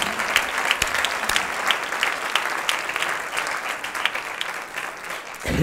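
Steady applause from a theatre audience at a stand-up comedy show in a cultural centre, dense and loud throughout with scattered sharper claps standing out.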